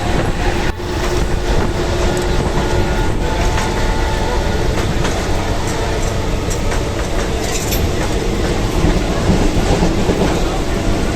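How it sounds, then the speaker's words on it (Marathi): A moving local train on the line toward Karjat rumbles loudly and continuously, wheels clattering on the rails inside the carriage. "मित्रांनो, आपला ट्रेनचा प्रवास चालू आहे।"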